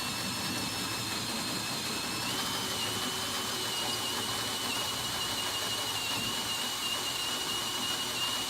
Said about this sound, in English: 9/16 drill bit to fit the bracket extension piece